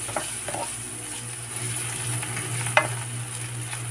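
Sili leaves are stir-fried with onion, tomato and fried garlic in a pan, giving a steady close sizzle with a few brief scraping stirs.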